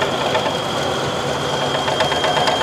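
An old LT van engine running roughly with its timing still too advanced and a worn motor mount, giving a rattling, uneven clatter with knocking pulses over a steady mid-pitched drone, close by.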